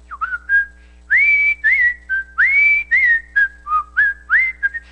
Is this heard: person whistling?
yes